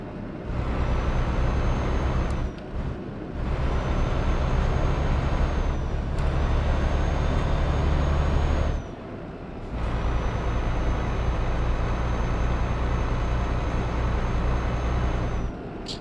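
Truck in Euro Truck Simulator 2 braking hard: a loud engine drone is cut by sharp hisses of the air brake twice, with short gaps, then the rumble resumes.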